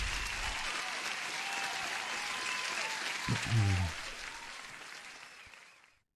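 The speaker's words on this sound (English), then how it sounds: "One more applause to you." Sustained applause from a crowd, dense and even clapping with a brief low voice murmur partway through, tapering off toward silence at the end.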